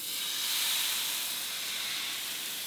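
A ladle of crêpe batter hits a smoking-hot pan and sizzles in a loud, bright, continuous hiss that swells briefly and then holds steady, close up with no talking.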